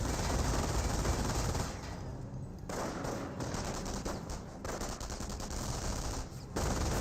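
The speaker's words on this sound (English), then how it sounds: "MG42 is setting him up, trying to get a good burst there on the rifleman" An MG42 machine gun in Company of Heroes fires long rapid bursts, rattling hard and continuously with brief pauses between strings of shots, loud and close, amid other battlefield gunfire.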